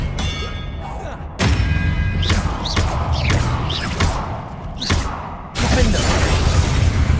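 In the Hogwarts Legacy video game, the Expelliarmus disarming spell lands amid combat: a run of sharp, heavy impacts and zapping swooshes, with loud thuds around the second and fifth seconds over a rumbling battle bed.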